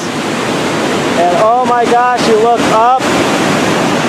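A rushing river in the Adirondack forest of New York gives a loud, constant broadband roar, with a person speaking over it for part of the time.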